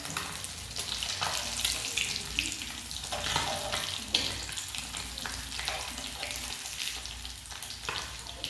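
Fish sizzles steadily in hot oil in a pan while a fork turns the pieces, bright crackling spatter with occasional scraping clinks, close and continuous throughout.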